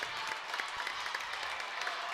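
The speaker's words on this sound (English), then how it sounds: "And King with a round of applause." Applause from the crowd at a boys high school basketball game, steady dense clapping in the gym for a player leaving the court, lasting about two seconds without a break.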